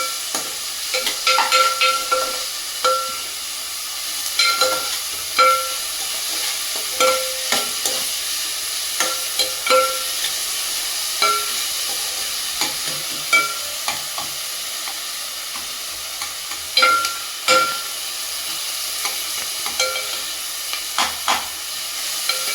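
Onions fry with salt in a pan for Andhra-style korameenu fish curry, a steady hissing sizzle broken by repeated sharp clinks and scrapes of a stirring spoon, close up and without talk.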